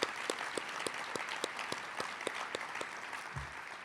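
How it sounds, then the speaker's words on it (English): Audience applause at a Back on My Feet gathering in a JW Marriott Indianapolis event room: a steady, dense round of clapping from a crowd, fairly even in loudness throughout and heard alone. "another round of applause."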